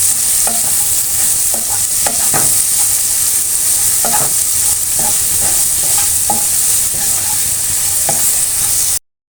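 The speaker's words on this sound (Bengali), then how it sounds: "পেঁয়াজ কিছুটা ভাজা ভাজা হয়ে আসছে" Onions fry with a little turmeric in a pan, a loud, close, continuous hiss broken by repeated clinks and scrapes of a stirring spoon at uneven intervals, then cutting off abruptly near the end, with no talking.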